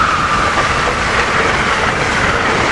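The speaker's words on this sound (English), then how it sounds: "Here we got the Crescent train 19 headed south." Amtrak's Crescent, train 19, passes close with an ACS-64 electric locomotive leading, a loud, continuous rushing roar of wheels and rail noise that holds steady throughout.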